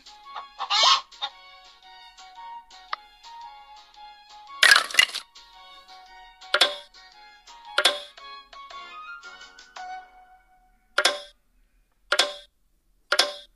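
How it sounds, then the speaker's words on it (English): Cartoon chicken clucks from a kids' animal puzzle app, sharp bright bursts in a broken rhythm, mixed with short tonal chimes and clicks, loud and close. "Chicken."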